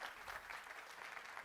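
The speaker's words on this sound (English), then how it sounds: "I think a big round of applause to everyone who have seated here" Event audience at a GDG Cloud Bhopal community tech gathering clapping steadily, a dense even patter of many hands close by with no voices over it.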